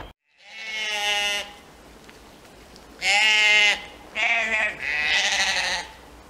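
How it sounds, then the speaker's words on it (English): Soay sheep, a small, tough, goat-like breed, bleat several times in a row: one long call, then a loud near pair and another drawn-out bleat after a pause, with no talk over them. "if you're wondering what those things are behind me, they are not goats. These are Soay sheep."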